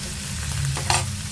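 Small chopped tomatoes frying in hot oil in a pan for masala puri, a short close sizzle with a brief stirring scrape near the end.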